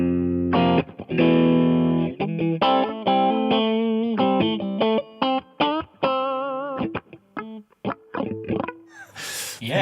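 A clean electric guitar through a Mojo Hand FX Sacred Cow pedal and TC Electronic reverb plays a quick phrase of distinct ringing notes and chords, close and loud, each note trailing off into a reverb tail.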